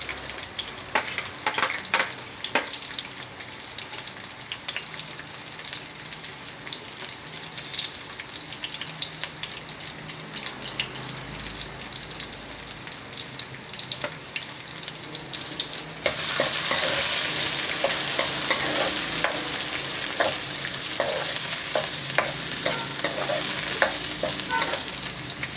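Onions fry in a pan for pakbet, a continuous crackling sizzle with scattered pops and stirring clatter, swelling louder and busier in the latter half.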